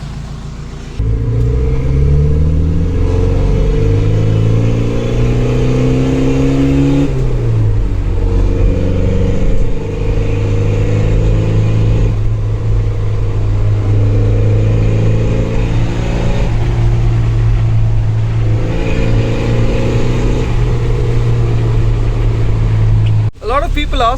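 A Mahindra Thar 4x4 engine drones loudly and steadily while driving, its pitch climbing and dropping through gear changes as the vehicle accelerates, with speech likely mixed in at times.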